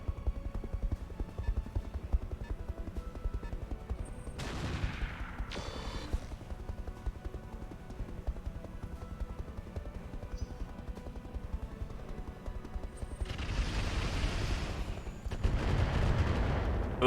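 An LRM missile barrage in BattleTech Roguetech: a low constant rumble broken by bursts of loud booming launches and impacts, heaviest near the end, with no talking.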